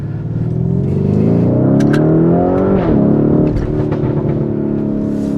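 Loud, close engine of a Lamborghini Urus Performante with an Akrapovic exhaust, driven in manual mode with paddle shifters, revving up hard through rising gears with a quick shift break partway, a steady deep roar throughout.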